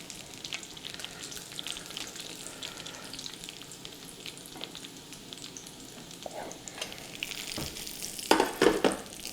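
Bacon fries in a pan with a steady close sizzle and popping, crackling louder near the end as the fat spatters.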